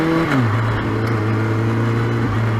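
A moped engine in London traffic, loud and close, its pitch dropping from a rev and then holding a steady drone.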